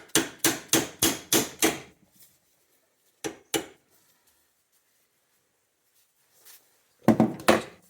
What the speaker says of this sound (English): So let's go ahead and start hammering on this.